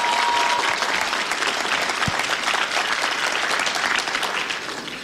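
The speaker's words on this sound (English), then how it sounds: "One more hand for all three of these folks up here." An audience claps warmly for three people on stage at a landing ceremony, a full, sustained round of applause with a faint voice at the start, tapering slightly at the end.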